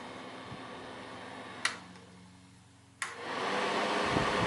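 A Ryobi 18V battery-powered fan switches up to high with two clicks and settles into a louder, steady whooshing hum, close by and alone.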